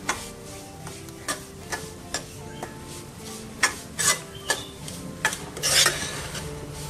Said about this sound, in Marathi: आणि मंद आचेवरती आपल्याला हा रवा आता भाजायचा आहे.